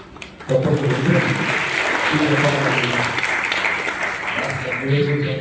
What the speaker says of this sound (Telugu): వచ్చినప్పుడు చప్పట్లు ఆటోమేటిక్గా కొట్టేయాలి